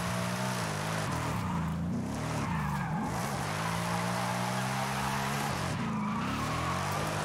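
A car drifting on gravel in Forza Horizon 5, driven with a MOZA R9 wheel, with a constant loud engine roar and tire skid whose pitch rises and falls as the car slides.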